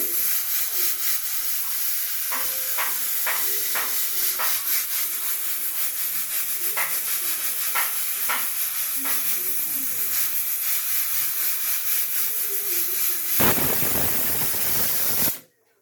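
A pressure cooker cooking country chicken releases a continuous loud hiss of steam under pressure, with faint clicks and rattles, cutting off abruptly near the end.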